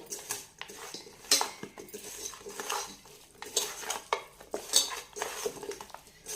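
A metal spoon works raw chicken pieces with chilli powder, salt and turmeric for chicken dum biryani, producing busy, irregular clanks and scrapes against a vessel, close and continuous, with no talking.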